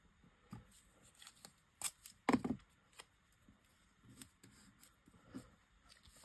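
Scissors snip around paper butterfly shapes being cut out for a pastel craft, a few sharp crisp cuts with rustling paper between, close and fairly quiet, with no talking.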